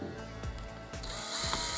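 A T15 driver bit turns strain relief screws on a DeWALT DW357 circular saw with a steady mechanical whir and rapid ratcheting clicks, close up and with no talking.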